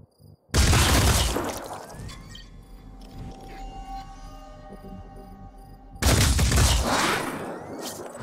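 Two heavy bursts of automatic gunfire from the Phoenix Point strategy game, loud and close, each followed by a ringing, echoing tail and a quieter stretch of mechanical game sounds between them.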